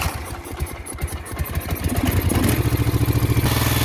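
A cold 1968 Moto Guzzi V7 700 motorcycle, with newly sleeved cylinders, cranks with uneven chugging. It then catches into a loud, close, rhythmic idle that pulses evenly and sits slightly high, with no voices.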